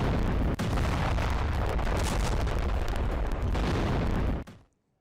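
US bombing of Houthi positions in Sanaa, Yemen, heard as a continuous loud, dense roar of blasts and rumble, with a sharp jolt near the start, before cutting off abruptly into silence.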